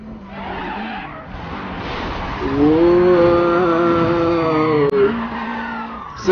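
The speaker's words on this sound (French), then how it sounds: "Ça c'était du frein à main" A car handbrake skid in the racing game Need for Speed World: a loud, sustained tire screech with a rising, wavering pitch over engine roar, lasting several seconds with no talking.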